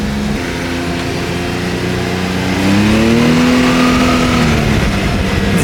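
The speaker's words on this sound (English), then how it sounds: "I don't know if you guys can hear that, but I can hear the turbo, like, very small." A Toyota Supra engine drones loudly and steadily, building in intensity midway, while a thin rising turbo whine spools up and fades above the rumble.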